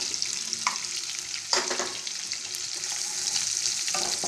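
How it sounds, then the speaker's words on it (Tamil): Garlic frying in sesame oil in a pan for Andhra-style tomato dal, a steady hissing sizzle with occasional stirring scrapes, heard close up with no talking. "பூண்டு போட்டு இதை நல்லா வதக்கலாம்"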